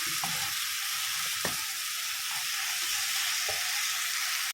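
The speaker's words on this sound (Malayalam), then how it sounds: "നമ്മൾ ഈ മസാലയിൽ ഇളക്കി യോജിപ്പിച്ച്" Sliced mushrooms being stirred into masala in a pan, a continuous close sizzle with a few soft knocks of the spoon against the pan, no talking.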